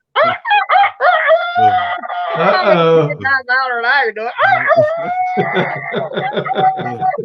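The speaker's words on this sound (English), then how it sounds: "This is the time that we heard the rooster crowing" A rooster crowing loudly and repeatedly at close range, with long, strained, wavering calls broken by clucking bursts and excited people's voices and laughter mixed in.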